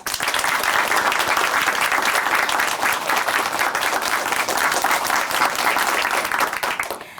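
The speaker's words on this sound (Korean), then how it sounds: "다시 한번 큰 박수 보내드릴게요." A studio audience at a Christian TV show taping applauds steadily and loudly for about seven seconds, a dense wash of many hands clapping at once that stays even throughout and then drops off sharply at the very end, with no talking over it.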